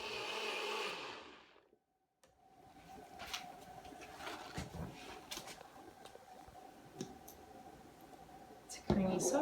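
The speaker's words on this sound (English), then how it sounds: "So I'm gonna go ahead and blend that." A kitchen blender purees guasacaca, a creamy Venezuelan avocado sauce, with a steady whirring drone that runs for several seconds after a brief pause, punctuated by clicks and clatter and ending in a louder burst.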